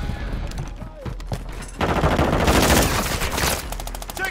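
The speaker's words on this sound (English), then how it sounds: "Taking effective fire!" Heavy automatic gunfire from Call of Duty Modern Warfare II Domination combat builds into a loud, dense sustained burst in the middle of the clip, preceded by scattered shots and battle noise.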